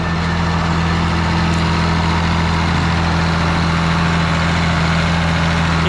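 Ford tractor engine running steadily with its drive shaft spinning, a loud, constant low idle-like drone with a strong hum throughout, with no voices over it.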